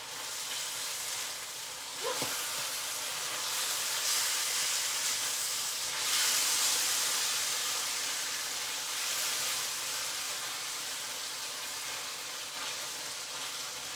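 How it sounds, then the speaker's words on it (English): Beef fries in a pan with a loud, steady sizzle and steamy hiss, rising in surges as it is stirred, with a sharp clank near the start and no speech. "I'm gonna give my beef a little stir."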